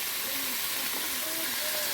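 Brinjal and potato fry in a pan with salt and turmeric, giving a steady, dense hiss that holds evenly from start to finish with no voices.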